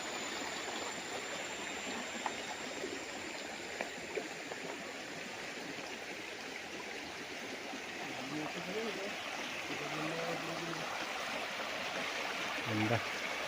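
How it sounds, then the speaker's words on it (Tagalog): Steady river flowing through a farm lot in Real, Quezon, a continuous broadband rush of moving water throughout, with a voice talking faintly over it near the end. "Dinaanan ng ilog ang inyong property."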